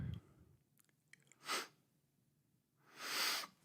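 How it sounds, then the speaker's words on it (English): A quiet sniffle leads into two bursts of sneezing, one short and one longer and louder, with silence between. "I'm gonna sneeze."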